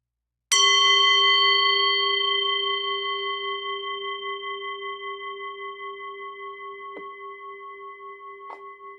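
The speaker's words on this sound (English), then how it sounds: "I'm ringing the bell now." A single bell struck once rings out clearly and sustains a long, slowly fading tone, with two faint soft taps later in the decay.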